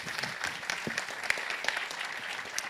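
An audience at a conference panel on digital health applauds, sharp individual claps forming a moderate, fairly close round of clapping.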